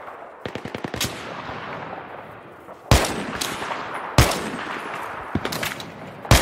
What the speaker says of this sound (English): 195 south, there's someone shooting at us.